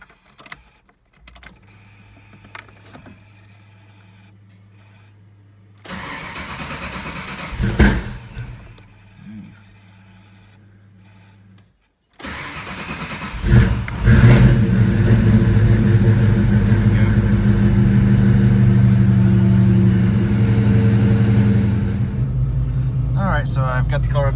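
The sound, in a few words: car engine starting and revving after injector swap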